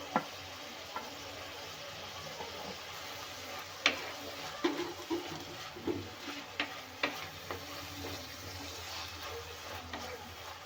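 Onions frying in a clay pot for egg curry, a soft steady sizzle broken by scattered stirring scrapes and clinks, fairly quiet and close with no talking.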